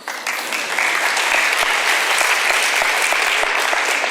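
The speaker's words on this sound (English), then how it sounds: "You can clap for yourselves again there." Audience applause at an activism talk during a London Z Day event fills the room, a dense, loud wash of many hands clapping continuously with a few distinct claps standing out near the front.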